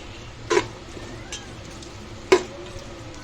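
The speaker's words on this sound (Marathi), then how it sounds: "हे तेलामध्ये वाटण चांगलं फ्राय करून घेऊया" Green ground spice paste sizzles softly in oil for a soybean pulao, with two sharp spatula clinks against the pot standing out over the low steady frying.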